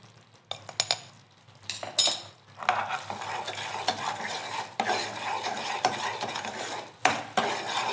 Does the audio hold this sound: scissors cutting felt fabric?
no